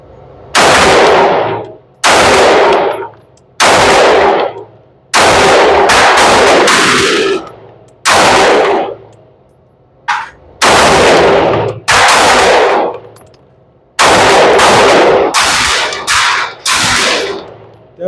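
A Canik TTI Combat pistol fires at a shooting range, loud, close shots ringing out in irregular strings of single and paired reports, with short pauses between them.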